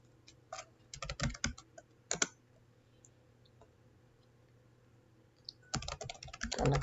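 A command typed on a computer keyboard during a Windows Active Directory domain migration, with clusters of quick close clicking keystrokes, a pause, then a denser burst of typing, no speech.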